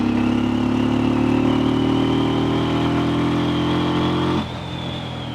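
Keeway Benda V302C small twin-cylinder cruiser motorcycle pulling in 5th gear at around 48-50 km/h, a steady loud engine drone with wind rush that rises slightly in pitch, then drops abruptly near the end.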